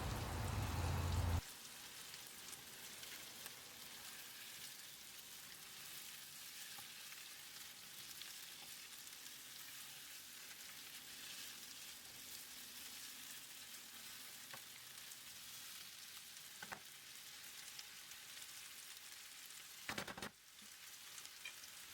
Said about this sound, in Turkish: ara sıra dikkatli bir şekilde karıştırarak kavuruyorum